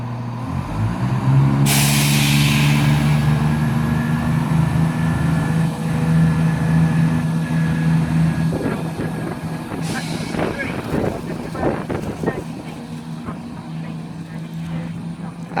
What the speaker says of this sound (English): now departing is going to be the 1233 service bound for Birmingham New Street, formed of 170